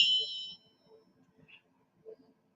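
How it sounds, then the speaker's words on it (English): A chime struck once at the close of a live stream, a bright ringing tone that sustains for about half a second and fades, followed by faint quiet movement. "I know, it's more like a chime."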